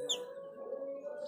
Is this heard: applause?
no